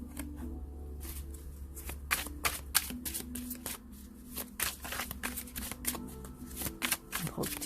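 Tarot cards are shuffled by hand in quick riffling bursts, close and crisp, with a repeated flicking rhythm over faint background hum.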